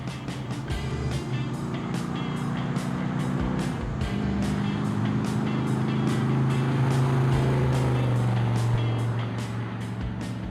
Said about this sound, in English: Let's get her driving down the highway.